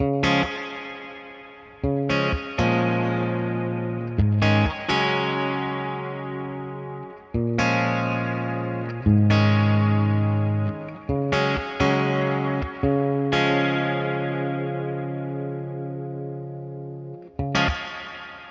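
Strummed electric guitar chords ring out through a Hungry Robot Stargazer reverb pedal with its sparkle switch on, shimmering, long bright tails trailing after each strum, with no voices.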